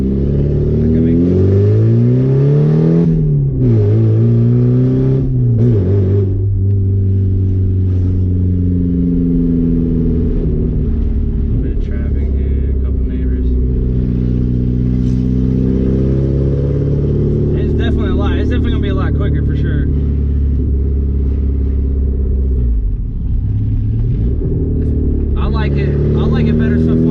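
A Porsche 944 with a straight pipe exhaust and quick shift kit pulls through the gears on a side street, its engine note climbing and dropping with each shift while someone talks over it steadily.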